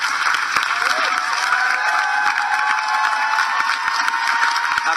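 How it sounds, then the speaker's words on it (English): A crowd at a horror film Q&A claps and cheers for the cast, a continuous wash of applause with scattered whoops and voices mixed in. "If we could get a round of applause for the cast,"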